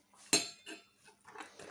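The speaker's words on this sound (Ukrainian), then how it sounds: "Розмішуємо" A spoon clinks and scrapes against a bowl in a few quick, bright strokes, close and fairly loud, mixing a honey cake batter.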